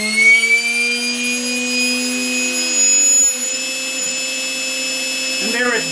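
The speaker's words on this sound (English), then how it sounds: "the helicopter is armed and actually gonna go full throttle, and we will have a soft start and we will wait for it to spool up completely" An RC helicopter spools up toward full throttle under a soft start, its rising motor and rotor whine climbing steadily in pitch, loud and close, with a small blip near the end.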